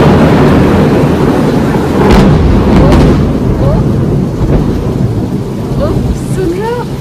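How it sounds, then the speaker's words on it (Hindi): Thunder rumbles loudly through heavy rain in a storm, with deep rolling bursts over a constant downpour and a few faint bird chirps near the end. "बिजली कड़क रही है जोर जोर से"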